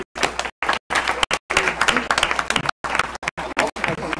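A crowd applauding at a Milwaukee Public Schools board meeting, with dense, steady clapping broken by a few abrupt silent gaps.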